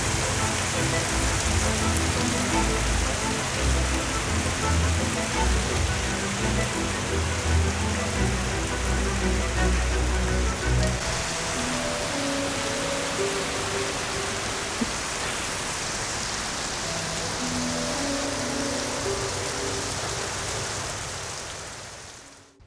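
Heavy rain pouring down on a small farm, a dense, steady hiss of downpour on surfaces that holds constant throughout before cutting off abruptly at the end, with no voices.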